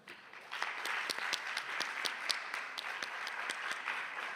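Steady audience applause at a lecture, many hands clapping together at a lively, even pace, filling the room for several seconds.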